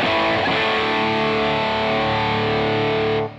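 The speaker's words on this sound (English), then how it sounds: "Now that is a distortion pedal. It's sort of emulating a cranked Marshall JCM 800," Electric guitar played through a Boss JHS Angry Driver distortion pedal set to emulate a cranked Marshall JCM 800, giving a loud, sustained, saturated chord ringing steadily for about three seconds before cutting off.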